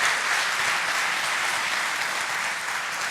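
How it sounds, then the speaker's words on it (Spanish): An audience at an economic outlook talk applauds steadily, a dense, even clatter of many hands clapping for about three seconds, with no voices over it. "otro aplauso se lo merece."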